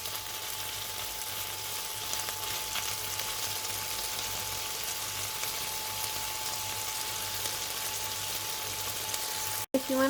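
Chicken breast sears in a hot pan, a steady, even sizzle holding at one level throughout, with a brief cut near the end.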